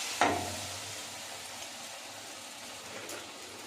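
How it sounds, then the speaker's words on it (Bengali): Pakoras fry in hot oil, giving a steady, even sizzle after a brief clatter at the start, with no voices. "তো বন্ধুরা দেখতে পাচ্ছেন পকোড়াটা আমরা লাল লাল করে ভেজে নিয়েছি"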